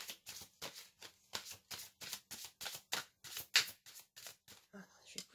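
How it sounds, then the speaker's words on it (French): Tarot cards are shuffled and drawn close up, producing a steady run of quick papery riffles and snaps, about a dozen evenly spaced bursts, with soft faint voice sounds near the end. "Je vais tirer d'autres cartes."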